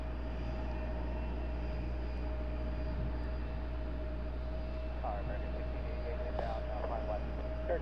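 A jet airliner taxis at Raleigh-Durham airport, a steady low engine rumble and hum with a faint whine, heard from a distance and unbroken throughout.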